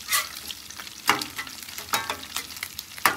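Sausage frying on a griddle as the base for breakfast gravy, with a crackling sizzle and repeated scraping strokes of a spatula, close and moderately loud, no voices.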